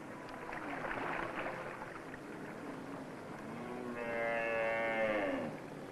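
Cattle resting in a drying pen after a tick wash give a long, low moo that rises and swells toward the end, heard over a steady background hum.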